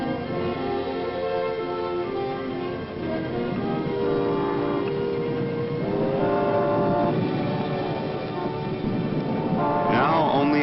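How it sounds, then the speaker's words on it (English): A once-a-day train whistles through a wheat field in long, steady tones over the rumble of rolling rail cars, with a brighter burst near the end. "Once-a-day train whistles through the wheat field."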